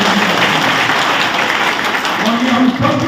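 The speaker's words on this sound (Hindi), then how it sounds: "इसलिए जोरदार ताली बजाकर।" An audience at a political rally applauds loudly and steadily for several seconds, a dense, continuous roar of clapping with a faint voice or tone rising underneath near the end.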